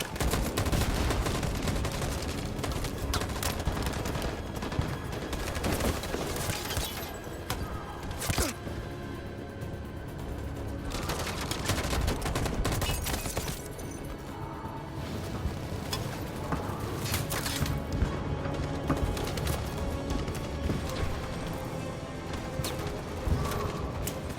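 Gunfire in the video game Detroit Become Human fills a dense, roaring battle soundscape, with heavy continuous shooting and blasts layered over rumbling noise throughout.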